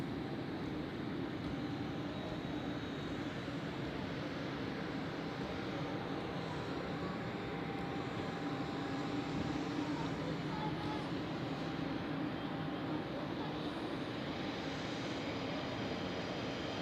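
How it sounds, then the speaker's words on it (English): An Air France Airbus A220 being pushed back onto the taxiway at foggy Zurich Airport, a steady low engine hum and broadband whine at moderate distance, continuous without breaks. "we have a look at this A220 of Air France pushing back onto the taxiway for departure to"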